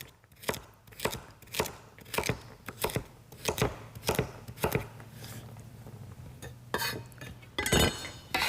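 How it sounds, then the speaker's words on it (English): A knife chops vegetables, such as celery, into pieces on a big cutting board in a quick, even series of crisp knocks, close and fairly quiet with no talking. "And then just cut them into pieces about the same size as your celery."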